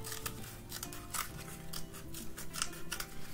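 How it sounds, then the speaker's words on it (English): Scissors snipping through paper while trimming a toilet-paper-tube snake for a paper circuit craft, a run of quick crisp cuts, close and fairly quiet, with no talking. "we cut this all the way through, we can unroll it and we can cut it a little skinnier"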